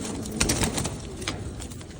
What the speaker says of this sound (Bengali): তো কবুতরটা ধরি আমরা।